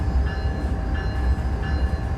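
A freight train brakes on the Cajon Pass route in Train Sim World 3, heavy continuous low rumble with faint steady tonal squeal, loud and close, with no talk.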